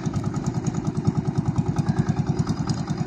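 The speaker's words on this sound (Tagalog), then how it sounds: "napandar na yung motor natin" A small fishing boat's motor runs close by during traditional pukot net fishing for silverfish in the Philippines, chugging in a fast, regular pulse of engine firing with a steady clattering throb and no talk.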